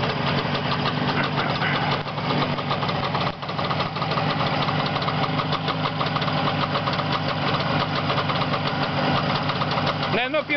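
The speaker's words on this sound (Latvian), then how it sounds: "pamēģi noslāpt un iedarbināt" An engine idles loudly and steadily close by, with a rough, knocking rumble throughout and a brief dip near the end.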